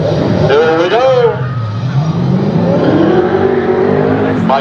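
A 1966 Ford Mustang Coupe race car accelerates at a racing event, its engine note rising and sweeping in pitch, loud and steady throughout while an announcer talks over it.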